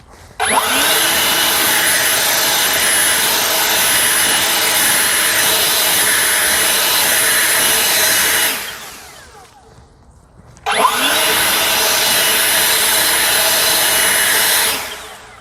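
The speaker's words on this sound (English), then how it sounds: "next up, Ego blower. I am not going to use the turbo feature" An Ego 765 CFM battery leaf blower running in standard mode gives a loud, steady high-pitched whooshing whine. It cuts out for about two seconds, then starts again at the same level.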